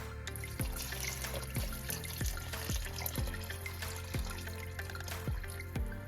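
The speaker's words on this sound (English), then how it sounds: "let me pour my beef broth in here" Beef broth pours into a crockpot for chili with a faint, steady trickling and gurgling splash that continues for several seconds, close by and with no talking.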